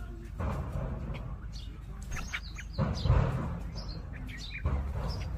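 Himalayan bulbuls along with black-crested and red-vented bulbuls chirp in the morning, short scattered high calls over a constant low background rumble, fairly faint and intermittent.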